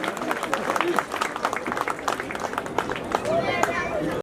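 Applause and clapping from a crowd at a community event unveiling a portrait of Dr. Bhimrao Ambedkar, dense and steady throughout, mixed with chatter and voices.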